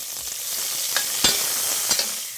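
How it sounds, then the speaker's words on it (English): Chopped onion goes into a pot of collard greens, giving a steady broadband sizzle with a few brief clicks of stirring or utensil contact; close and alone, no voices. "over in the collard green pot, I'm going to add onion."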